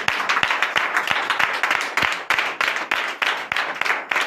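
A church congregation claps in a fast, steady rhythm in acclamation, loud sharp beats from many hands with faint voices underneath.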